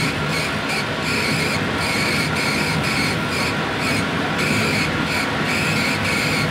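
A laser engraving machine doing high frequency impact engraving gives off a loud steady hiss, with a faint rhythmic pulsing beneath it throughout.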